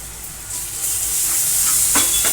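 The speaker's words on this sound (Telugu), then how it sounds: "ఉల్లిగడ్డ దూరగా వేగనివ్వాలి. ఒక స్పూన్ అల్లం పేస్ట్ వేసుకోవాలి." Onions frying in a pan with a spoonful of ginger paste added give a steady, close hiss and sizzle, with a couple of brief sharper crackles near the end.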